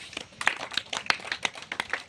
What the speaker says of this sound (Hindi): काली, ताली बजाइए